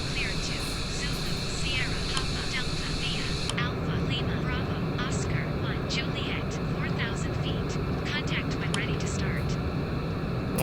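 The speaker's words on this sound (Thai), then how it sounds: "แล้วก็แท็กซี่ไปตาม ไปที่รันเวย์19 L นะฮะเพื่อที่จะเทคออฟนะฮะ" An airliner taxis toward runway 19L in Real Flight Simulator, its steady engine hum and broadband rush running continuously and evenly beneath a voice talking throughout.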